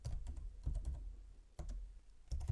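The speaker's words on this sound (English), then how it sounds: "now you need to type next" Computer keyboard typing in bursts of quick keystrokes separated by brief pauses, close and fairly quiet, a user entering a Linux terminal command on a Slax portable USB system.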